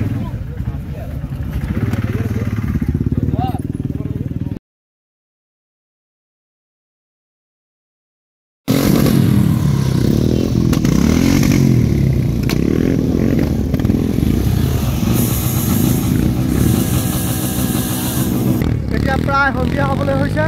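Motorcycles rev hard during a show-off at the 13th North East Rider's Meet 2023 in Assam. Engines roar and crackle steadily, with a sudden silent gap partway through and voices mixed into the din.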